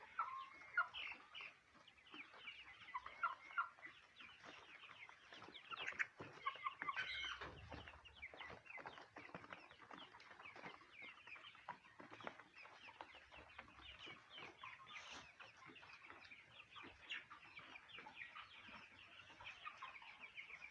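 Kuroiler chickens cluck and chatter continuously on a chicken farm, with many overlapping soft calls from a flock at a moderate distance and no talking.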